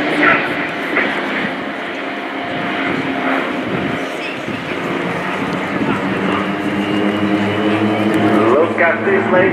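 Swiss Air Force Pilatus PC-7 Team flying loops at an airshow: a distant propeller engine drone rising and falling steadily under continuous commentary over a public address.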